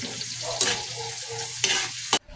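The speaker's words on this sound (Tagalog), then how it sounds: "igisa lang natin to hanggang sa lumabas yung aroma. Sunod naman itong sibuyas, continuous lang tayo sa paghalo" Garlic and onion sauté in a pan with a close, steady sizzle, broken by three sharp scraping strokes of a spoon stirring, the last followed by a sudden drop in sound.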